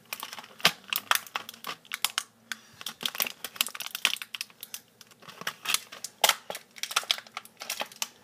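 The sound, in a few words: opening and tearing a Beyblade package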